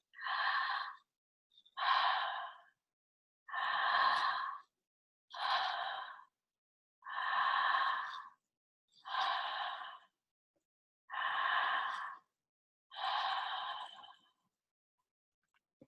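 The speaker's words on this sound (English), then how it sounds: "Keep breathing" Slow, continuous circular breathing, with eight long, airy, even breaths in a steady rhythm, each about a second long and separated by short quiet gaps. Close and clear, with no talking.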